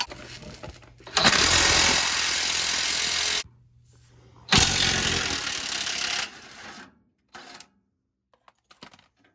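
Impact wrench loosening tight front bumper bolts on a 1968-69 Ford Fairlane or Torino: two long, loud, close hammering bursts of a few seconds each, then a couple of short blips, with no talk.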